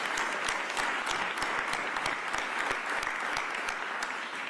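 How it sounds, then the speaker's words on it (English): Audience applause for city employees at a press briefing on Philadelphia's Super Bowl parade plans, a steady dense clapping that continues throughout at moderate loudness with no talk over it. "let's give all those dedicated city employees and other folks a round of applause."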